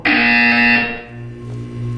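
A loud electronic buzzer in the video game Portal 2 sounds as one sustained harsh tone for under a second, then fades into a low ambient hum.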